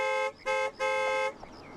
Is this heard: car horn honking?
yes